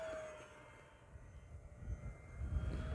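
E-flite P-51D Mustang RC model airplane flying at full throttle into the wind, a steady motor whine under rushing wind noise that grows louder toward the end.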